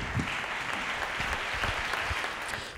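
After a lecture on agriculture and energy, the audience applauds in a steady patter of many hands, moderately loud, with a few sharper individual claps standing out.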